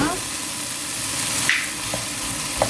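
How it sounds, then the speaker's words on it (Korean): Cabbage and rice stir-fried in a pan for a smoked duck fried rice, giving a loud, continuous sizzle with scraping stirring sounds and a couple of sharp utensil clicks against the pan. "양배추 숨이 죽을 때까지 1분 30초 정도 볶아줄 거예요"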